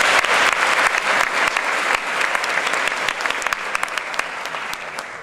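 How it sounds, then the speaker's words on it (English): A school audience claps enthusiastically for a choir's performance, loud at first, then thinning into scattered individual claps as it tapers off. "Let's give the C-Notes another round of applause."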